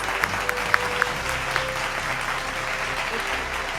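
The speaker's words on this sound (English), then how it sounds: "Ladies and gentlemen, a thunderous round of applause." Audience applause at an entrepreneurship awards ceremony marking twenty years, a dense, even wash of clapping with a few sharper claps standing out early, moderately loud and continuous.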